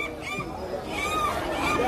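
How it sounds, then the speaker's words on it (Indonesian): A dense chorus of honking and squawking birds, many calling at once, fills the air in a busy, noisy crowd of fowl at a bird market in Medina. "Ini pasar burung."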